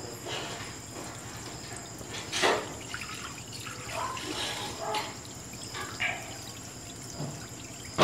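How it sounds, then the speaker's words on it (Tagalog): Water poured out from a catfish breeding container, a soft splashing trickle with intermittent drips and gushes over a quiet background hum, close by and moderately faint. "Tapos tapon yung tubig."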